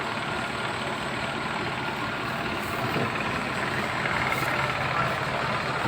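A green vehicle sits stuck on a washed-out provincial road, its heavy engine idling in a steady, continuous low rumble with broad noise throughout, fairly loud and close, with no talking.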